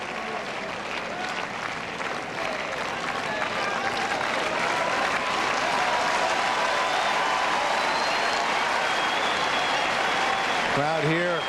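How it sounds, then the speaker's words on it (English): Steady, sustained applause from a tennis crowd at the 2001 Montreal final between Andrei Pavel and Patrick Rafter, a broad wash of clapping that holds evenly throughout while a commentator speaks over it. "Crowd here appreciating the fine play they've seen so far from these two men."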